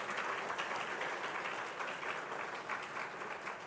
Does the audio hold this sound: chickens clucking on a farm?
no